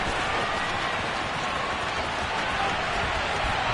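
A stadium crowd in the Madden football video game roars after a Ravens touchdown, a dense, continuous wash of cheering and applause that stays loud and even throughout.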